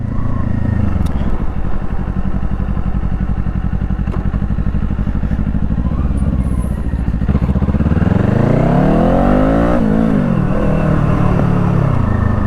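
A Kawasaki Eliminator small cruiser motorcycle engine rumbles loudly and steadily, then revs up with rising and falling pitch sweeps near the end, close and continuous.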